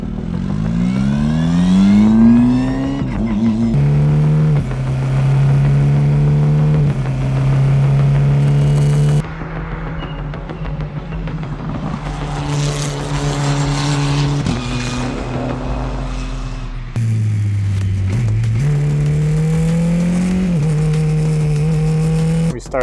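Race car laps a track at a racing school, engine loud and close, rising through gears, dropping under braking and climbing again with repeated upshifts and downshifts, no talk.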